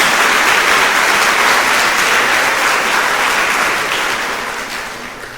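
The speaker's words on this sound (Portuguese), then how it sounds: "Dá uma salva de palmas a Jesus." A church congregation applauds, loud dense clapping that carries steadily for several seconds and then begins to fade toward the end, with no voices over it.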